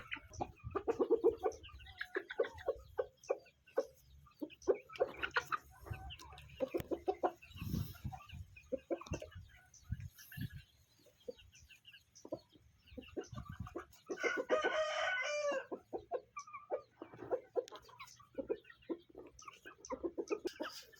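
Thai Yiar-line chickens cluck repeatedly at close range, with a rooster crowing partway through over a steady farmyard background.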